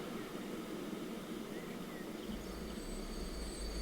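A train in the video game Transport Fever 2 rumbles steadily along the rails, with a deeper low rumble building toward the end and faint high squeals above the broadband noise.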